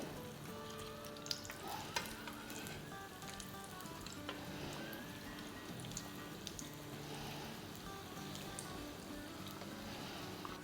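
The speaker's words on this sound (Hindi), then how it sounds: "कचौरियों को फ्राई होते हुए 3-4 मिनट हो गए, तब इसको पलटते हैं।" Keema-stuffed kachoris deep frying in hot oil give a steady, dense sizzle with scattered bubbling pops throughout, fairly quiet and close, with no talk.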